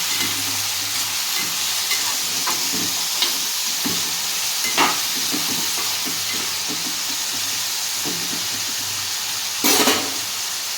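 Potato pieces sizzle and hiss steadily in hot oil for a dried fish curry, with occasional stirring scrapes and a brief louder burst near the end.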